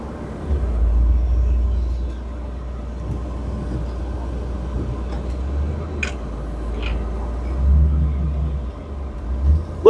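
A 1964 Ford Thunderbird convertible's engine idles with a deep, steady low rumble, its carburetor hesitating, while faint ticks and small knocks sound over the running motor.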